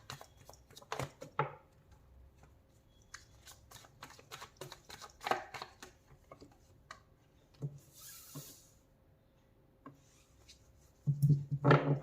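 Tarot cards are shuffled and drawn by hand, with a quiet series of crisp flicks and taps, close to the microphone and sparse, ending in a soft scraping rustle.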